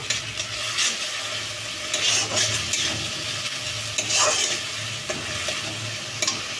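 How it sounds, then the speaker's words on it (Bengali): Spice paste being stirred in a hot frying pan, with a steady, close sizzle and frying crackle under gentle, continuous scraping and stirring throughout, no voices. "এবার হালকা হাতে এভাবে নেড়ে চেড়ে নিচ্ছি"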